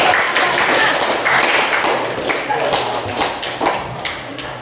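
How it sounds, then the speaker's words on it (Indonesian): Scattered claps and taps from a group in a class session, uneven and fading slightly, with voices murmuring underneath. "Baiklah, kita berikan tepuk tangan dulu."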